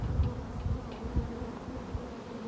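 A swarm of bees inside a chimney gives off a continuous, close, dense buzzing drone that wavers slightly in loudness throughout.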